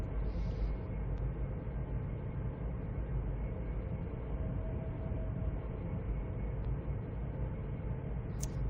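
Class 350/1 electric multiple unit in the Train Sim World 5 simulator, Northampton to London Euston: a continuous loud rumbling run with steady rolling noise and faint high clicks, no talk.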